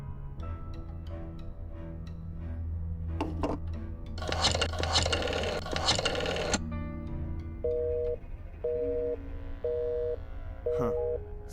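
A telephone is dialed in the video game Black Mirror 2, a series of short, evenly spaced electronic tones following a burst of rustling, with game music humming underneath.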